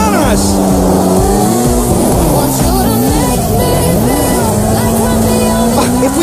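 A car engine roars and revs steadily as it speeds away during a chase in Grand Theft Auto V, loud and continuous with shifting pitch, with game dialogue and voices over it.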